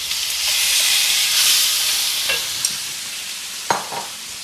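Potatoes for an aloo sabji sizzle and hiss steadily in a hot pan, with a few sharp scrapes and clinks of stirring toward the end and no talk.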